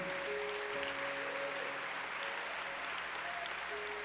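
A church audience claps along at a worship service, a soft, fairly distant patter of many hands held at an even level, with a faint sustained organ-like tone beneath it.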